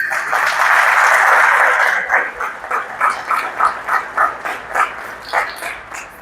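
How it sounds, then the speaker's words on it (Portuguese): A church congregation at OBPC Anápolis claps for Jesus, first a loud wash of applause, then settling into a string of distinct rhythmic claps that fade slightly toward the end. "Quantos podem aplaudir o Senhor Jesus por isso?"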